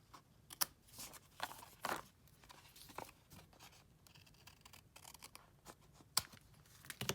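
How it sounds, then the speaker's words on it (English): Paper snips trim excess paper from a handmade card in a quick series of soft, close crisp snips and rustles, with no voices. "we're going to take our paper snips and we're going to cut off the excess paper"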